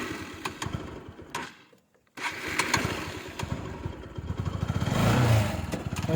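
A motorcycle on the rough road to Pangong Lake in the Himalayas chugs and clatters up close, cuts out briefly to near silence, then restarts and runs on with a rising, labored engine note.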